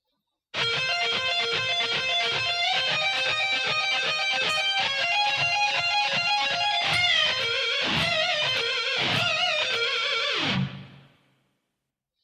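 Distorted electric guitar plays a fast, steady run of notes with wavering vibrato pitch from a solo, alone, slowed down, ending on a held note that fades out.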